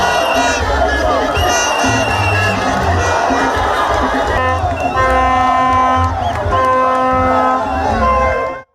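Thousands of people cheer and shout from a roadside crowd at a Ugandan political rally for candidate Kyagulanyi, a loud, continuous wall of voices, whistles and shrill calls lasting throughout and cutting off abruptly at the end.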